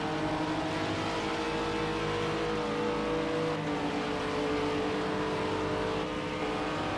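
GT3 race cars roar around the Daytona circuit in a racing video game, several engines blending into a dense, continuous whine and rumble with shifting pitch as the cars run nose to tail.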